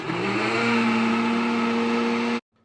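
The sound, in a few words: Ninja Pro 1000w blender running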